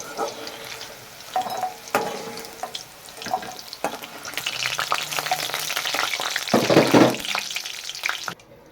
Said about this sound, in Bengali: উচ্ছেগুলো প্রায় ভাজা হয়ে যাচ্ছে এগুলো লাল লাল করে ভেজে নেবো